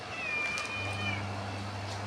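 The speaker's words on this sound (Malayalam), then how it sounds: "എന്തോ ഒരു പൂച്ചകളുണ്ട കറുപ്പ് കുറേ ഉണ്ട്" A cat gives a single clear, drawn-out meow over a low steady hum, close to the microphone and with no voices.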